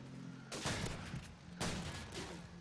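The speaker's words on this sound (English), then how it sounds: "I forgot how all the LMGs sound in this gun." Light machine gun fire in Call of Duty 4, with two dense rapid bursts of gunfire, each about a second long, heard fairly close against a low game background.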